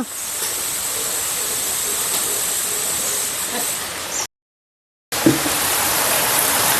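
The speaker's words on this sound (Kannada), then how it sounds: "ಬೆಳಿಗ್ಗೆ ಬೆಳಿಗ್ಗೆ ಜೋರು ಮಳೆ ಶುರು ಆಗಿದೆ" Heavy morning rain pours in a steady, loud, broadband wash, briefly interrupted by a short silent gap before the same dense rush resumes.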